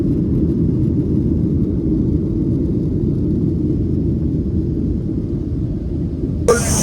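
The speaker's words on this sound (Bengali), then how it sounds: "Boeing 737-900 aircraft departure" Deep, steady engine roar of a Boeing 737-900 airliner on departure, a dense low rumble holding level throughout, ending in a brief sharp clatter near the close.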